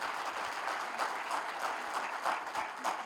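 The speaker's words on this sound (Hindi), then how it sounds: "तालियों में उनको खराज तहसीन पेश करें।" Moderate applause from an audience at a memorial gathering of an officers' association marking Benazir Bhutto's death anniversary, continuous clapping with some individual claps standing out, fairly soft and without talk.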